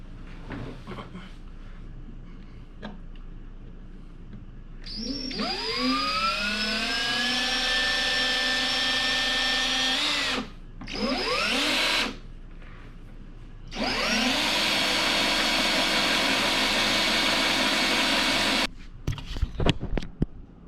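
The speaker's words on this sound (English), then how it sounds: "All right, time to drill." A power drill drilling holes in a Randall Iso speaker cabinet whines up to speed and runs steadily in long bursts, stopping briefly between them, then a few clunks at the end.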